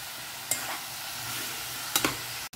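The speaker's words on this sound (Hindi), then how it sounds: "फक्त ताका बरें फ्राय करून घेवपाचें कांदे टोमॅटो वांगडा." Bitter gourd sizzles steadily in a pan with onions and tomatoes as it fries. Two or three short scrapes come from stirring over the even frying hiss.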